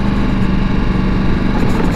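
Engine of a 2024 Ducati Multistrada V4S, a 170 hp touring motorcycle, running steadily up close with a dense low rumble and constant loudness, no audible talk.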